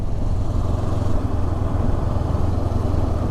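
A stock-exhaust Honda NX500 motorcycle rides down a mountain pass, its engine a steady, loud low rumble with a continuous drone and no pauses throughout.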